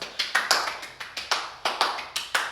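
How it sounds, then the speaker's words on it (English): Several short bursts of hand clapping in an uneven rhythm, close and moderately loud, like a small group applauding briefly. "give ourselves a round of applause"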